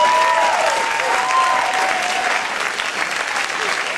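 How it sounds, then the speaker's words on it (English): A church congregation gives a round of applause, dense continuous clapping at a steady level throughout, with faint whoops or voices rising above it near the start. "So I want to give all these people an round of applause."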